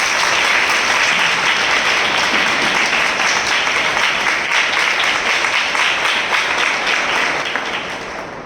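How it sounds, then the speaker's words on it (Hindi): A large congregation at a spiritual assembly gives sustained, dense applause, a steady wash of many hands clapping together for several seconds before tapering slightly at the end, loud and with no speech over it. "हम जोरदार तालियों से उनका स्वागत करें।"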